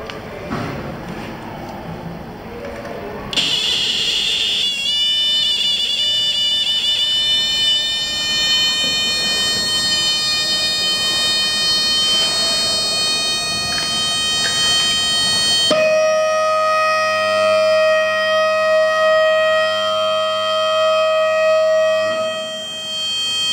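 A homemade flood detection alarm built as a school project shrills with a steady, loud electronic siren tone once its probe cable touches water, starting abruptly after a few seconds of quiet and shifting pitch partway through.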